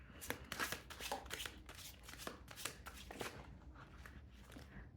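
Tarot cards being shuffled, with a run of crisp riffling and slapping bursts close to the microphone, each lasting a fraction of a second, in an otherwise quiet room.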